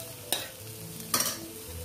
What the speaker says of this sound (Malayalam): ഇതിനെ എല്ലാം കൂടി ഒന്ന് നമുക്ക് ഇളക്കി യോജിപ്പിക്കണം.